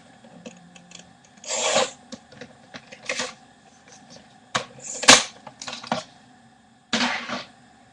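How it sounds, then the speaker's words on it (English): A pivot paper trimmer cuts cardstock in half with several short scraping, rasping strokes separated by pauses, plus a sharp click or snap partway through, heard up close with no talking. "I'm gonna cut this in half."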